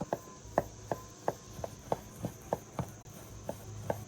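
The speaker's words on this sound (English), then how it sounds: "now we're just going to find each individual piece and cut against the grain" A knife slicing cooked beef against the grain on a cutting board for beef chow mein, about eleven crisp, evenly spaced cuts in steady rhythm, close and clear over a faint background hum.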